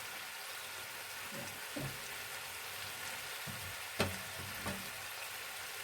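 Chicken frying in a pan with lemon, a steady close sizzle with a few soft stirring clunks and scrapes over it.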